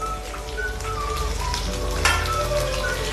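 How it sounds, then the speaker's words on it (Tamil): Ivy gourd pieces, cut with onion, sauté in oil for a tamarind kulambu, making a continuous, even, rain-like frying hiss up close, with faint tonal whines in the background and no voices. "இப்போ இது எண்ணெயிலேயே நல்லா வதக்கிக்கலாங்க."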